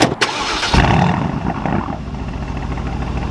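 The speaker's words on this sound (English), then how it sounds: "Let's start with the car and hear the car." A 2019 Aston Martin Vantage with an AMG engine cranks and fires into a loud, deep roar, then settles into a steady, rumbling idle close by.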